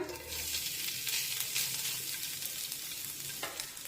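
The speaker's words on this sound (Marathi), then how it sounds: "हे ओलं खोबरं दोन मिनिटे मंद आचेवर परतून घेऊया" Grated fresh coconut frying in ghee in a pan over low heat, a steady soft sizzle with occasional stirring scrapes, close and continuous, with no talking.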